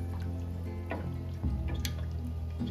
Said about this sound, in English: now she's adding some boiled water